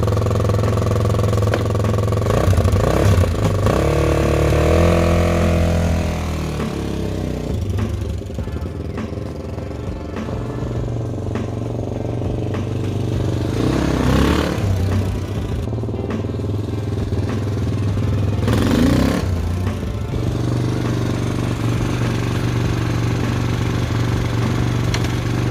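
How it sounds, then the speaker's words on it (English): A Honda XR400 motorcycle engine runs while the bike is ridden to test the clutch and gears, a steady low thumping drone throughout with several swells in revs. "let's see if the bike also drives and if the clutch works and if the gears are good"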